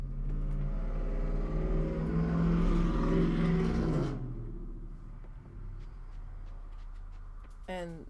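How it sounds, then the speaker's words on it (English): In the Coral Island video game, a loud car thumping heavy bass rumbles close by for about four seconds, then fades as it moves away, leaving quieter background game sounds. "Car's bass is entirely too loud."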